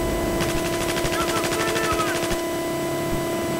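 Rapid automatic gunfire from an M4 rifle and LMG in a video game, a sustained close burst of evenly spaced shots lasting about two seconds before cutting off, over steady background game noise.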